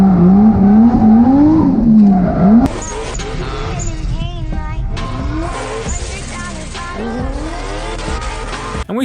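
A car drifting, with loud engine revving and long wavering tire squeals, close and continuous; a voice talks briefly over the start.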